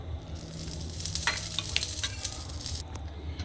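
Grated beet and carrot salad is stirred with a spoon right after a hot mustard-oil tempering with turmeric and asina is poured on, giving soft scraping and faint crackling sizzle, quiet and close.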